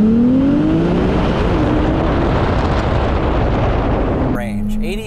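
A Ferrari 296 GTS engine revs hard as the car drives a tight road. The loud, steady roar rises in pitch, then cuts back near the end as a brief voice is heard.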